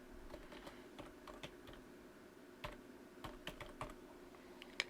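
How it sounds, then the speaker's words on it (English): Quiet clicks of computer keyboard keys come in short irregular bursts as an email address is typed, faint and close with no voices. "So I'm just going to type in my email address"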